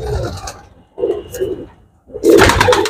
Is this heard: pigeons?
yes